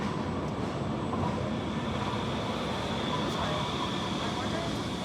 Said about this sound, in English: now watch the meeting of the J trains